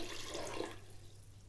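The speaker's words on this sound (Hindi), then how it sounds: "इसमें मैं 3 से 4 गिलास पानी ऐड करूँगी" Water runs into a pot of whole spices such as cloves, black cardamom and black peppercorns for mutton yakhni pulao, a steady close splash and trickle that fades out after about a second.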